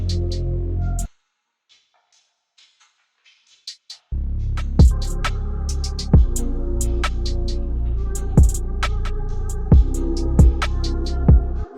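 An R&B beat's percussion loop drenched in extra reverb, with highs rolled off and high mids boosted, thumping steadily with sharp recurring hits after a brief near-silent gap, loud and spacious.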